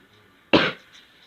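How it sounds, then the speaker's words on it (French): A single sharp cough bursts out nearby from a French-speaking player during a Castle Clash gaming session, loud and brief, fading quickly into quiet. "Excusez-moi si je tousse"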